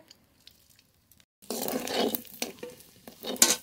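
Whole cumin seeds hit hot oil for tempering: after a near-silent start, a sudden loud crackling sizzle bursts up close and keeps spitting and popping unevenly.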